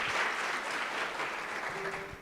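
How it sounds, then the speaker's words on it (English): An audience at a university campus inauguration ceremony claps steadily in a dense, sustained round of applause that fills the room and tapers slightly at the end. "One last round of applause for the chairperson"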